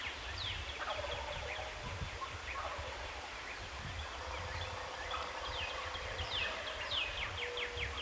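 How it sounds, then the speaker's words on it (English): Many wild turkeys gobble in overlapping bursts during a Kansas spring hunt, some near and some distant, over a steady outdoor background with chirping birds. "turkeys are firing off"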